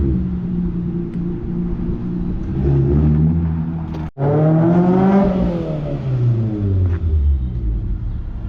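A Nissan 350Z engine with a big exhaust tip revs up, drops back and climbs again through several rises, loud and near, with a deep rumbling exhaust tone.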